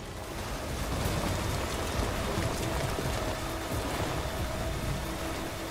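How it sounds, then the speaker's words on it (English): Timefall rain in the video game Death Stranding hisses as a dense, steady patter of rain over a broad wash of noise, loud and continuous throughout with no talk. "I want to get out of this time fall rain now."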